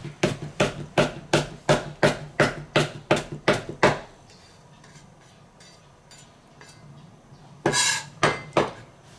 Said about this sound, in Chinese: 生姜给它切成丝